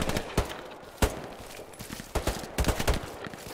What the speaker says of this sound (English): Someone else is shooting.